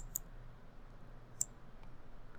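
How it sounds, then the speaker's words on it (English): Computer mouse being right-clicked, two or three faint, sharp, isolated clicks spaced apart over a quiet background hum, with no talking. "right-clicking and holding the right mouse button down"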